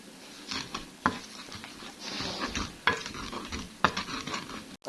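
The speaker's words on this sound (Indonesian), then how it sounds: "tinggal diulek." Sambal of tomato, chili, salt and fried shallots ground in a stone mortar, with irregular scraping, grinding strokes and sharp knocks of the pestle, close up and with no talk.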